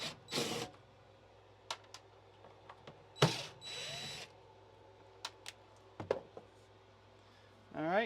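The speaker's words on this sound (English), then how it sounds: "let's go ahead and get these 4 corner screws off" Short bursts of a power driver removing the corner screws from an old RV stove, each whirring briefly and close by, spaced by quiet pauses and light clicks of metal parts.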